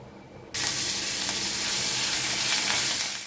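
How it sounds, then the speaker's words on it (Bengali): Onion paste drops into hot oil seasoned with dried chili, bay leaf, peppercorns and cardamom, bursting into a loud, sudden sizzle that holds as a steady, close frying hiss. "এর মধ্যে আমি এবারে পেঁয়াজ বাটা দেব"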